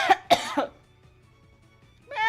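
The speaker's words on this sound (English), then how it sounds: "Sorry for the coughing." Two sharp coughs close together, then a softer third, followed by quiet and the start of a voice at the end.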